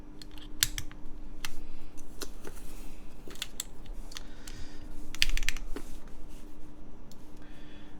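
Typing on a Yan Studio Qi65 custom mechanical keyboard produces close, crisp clacks in irregular bursts, with a few heavier thocks among lighter key taps and a quiet background hum.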